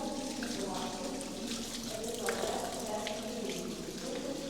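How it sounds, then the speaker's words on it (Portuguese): Cold mountain spring water runs from a fountain at Geghard monastery in Armenia, a steady trickling splash at moderate distance, with faint voices murmuring in the background. "A água, as pessoas vão ali com garrafinha para beber e conseguem ouvir o barulhinho."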